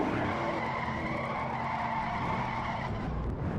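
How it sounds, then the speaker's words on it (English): A race car at Daytona during the Xfinity 300 gets sandwiched into the wall, with a loud, continuous skidding roar of tires and engine that holds steady for several seconds and carries no talk. "he got sandwiched into the wall pretty hard there"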